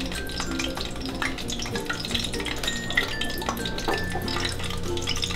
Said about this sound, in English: We sprinkle a little cold water. It's just starting to sizzle.